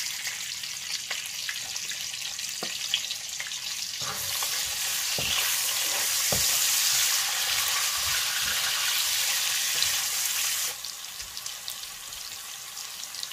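Onion goes into a Nigerian green and pumpkin leaf stew frying in a pot, the steady sizzle jumping louder for several seconds and then settling, with soft stirring clicks and scrapes throughout and no talking.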